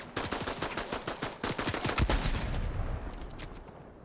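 Sniper rifle gunfire in the video game Fortnite, a rapid string of sharp, punchy shots in quick succession, then a quieter stretch with a few fainter distant shots, no talk.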